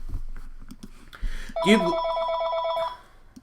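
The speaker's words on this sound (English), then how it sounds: "I keep forgetting to take the phone out of my office before I do these." An office telephone rings loudly in one sustained warbling electronic burst lasting over a second, following brief talk and a thump, then cutting off.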